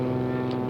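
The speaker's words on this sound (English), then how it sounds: "Slow flyby with flaps." Steady droning engine of a scale model aircraft making a slow flyby with flaps down, a smooth sustained tone held at even loudness throughout.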